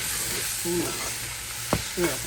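Thick chili sizzles steadily in a pan while a utensil scrapes and stirs through it a few times, close by, with no voices.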